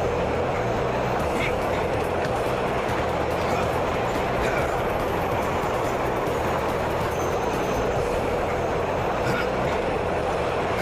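A train in the video game Duke Nukem: Manhattan Project gives off a steady, dense rumble with rattling and clatter. The sound holds at the same loud level throughout with no pauses.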